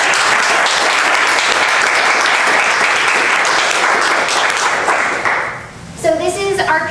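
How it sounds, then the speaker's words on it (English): A room full of audience members applauds panelists after a mental health panel, dense sustained clapping that fades out before a voice begins speaking. "I'd like to give a round of applause for all of our panelists"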